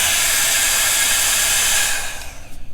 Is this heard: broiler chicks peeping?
no